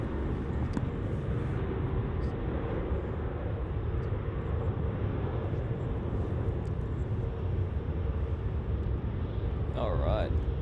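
A Singapore Airlines Boeing 777 taxis at Melbourne Airport, its engines a constant broad roar heard from a distance, steady throughout with a brief higher whine near the end.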